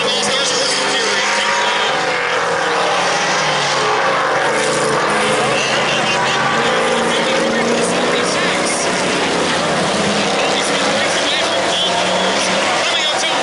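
Sportsman-series stock cars race at Lake Doucette Motor Speedway, with a loud, continuous engine roar that swells as the pack passes nearby, while voices carry over it.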